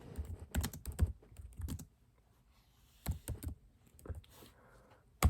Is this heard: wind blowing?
no